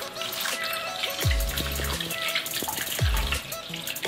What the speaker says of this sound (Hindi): अब इसे पानी से वॉश करेंगे अच्छी तरह से